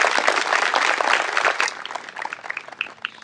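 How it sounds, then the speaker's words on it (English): An audience at an 8th grade promotion ceremony gives a warm round of applause, dense clapping at first that thins to scattered claps toward the end. "we'd still like to recognize her with a round of applause"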